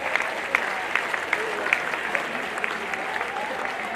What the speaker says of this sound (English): please, a resounding round of applause